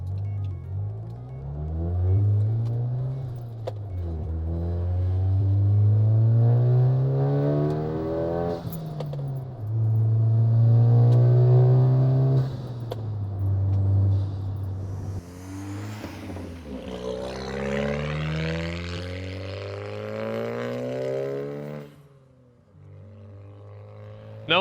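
Tuned, fully built Audi A4 B8 with a BOSS500 setup driving, its engine drone rising and falling steadily through accelerations for most of the stretch, loud and close from inside the car, easing off near the end.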